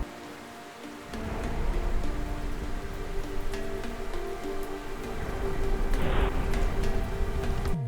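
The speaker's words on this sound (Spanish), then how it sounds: "cuando llueve y caen rayos" Steady heavy rain hisses across a modded GTA San Andreas scene, starting after a quieter second and continuing loud and even, with a brief rumbling swell of thunder near the end.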